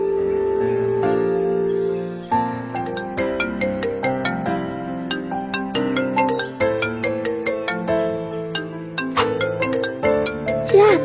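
Mobile phone ringtone from an unknown number, a bright melodic tune of repeated chiming notes that rings steadily and loud, alone, with no voices.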